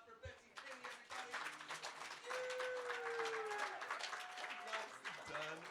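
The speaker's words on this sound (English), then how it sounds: "Another round of applause for Betsy Kinney, everybody." An open mic audience applauds with dense, sustained clapping that fills the room while a voice talks over it.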